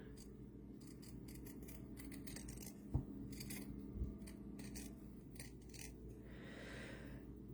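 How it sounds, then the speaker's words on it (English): Pinking shears cut away fabric on a small doll dress, giving soft repeated snips and rustles over a steady low background hum, with two sharper clicks standing out. "I'm going to do the scary thing, and I'm going to cut this away."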